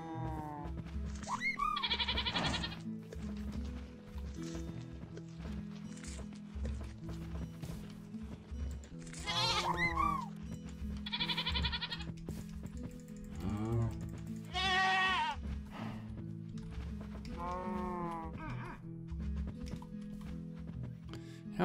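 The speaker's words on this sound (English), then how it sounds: "I'm not interested in a goat following me, really. Goats are trouble." Minecraft goats bleat repeatedly in wavering, nasal calls spread across a long stretch, over a steady game backdrop with soft clip-clop and clicking noises.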